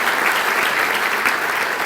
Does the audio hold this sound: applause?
yes